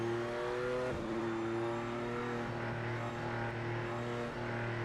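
A car engine revs with a sluggish, delayed throttle response, a steady engine tone that dips sharply around one second and then climbs and holds at moderate loudness.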